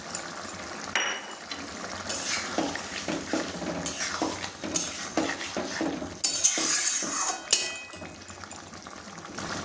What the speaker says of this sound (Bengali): এই সময় আমি ভেজে রাখা চিংড়িগুলো দিয়ে দিচ্ছি।